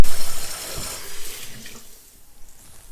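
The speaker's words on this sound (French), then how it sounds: "je rince ma poêle sous l'eau froide." Cold tap water splashes loudly over a frying pan used for baghrir while it is rinsed in a sink, then the flow eases and fades to a faint trickle.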